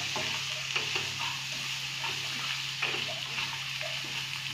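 Eggplant bharta being stirred in a frying pan with coriander powder and salt, a steady sizzle under repeated scraping strokes of the spoon, close and continuous with no talking.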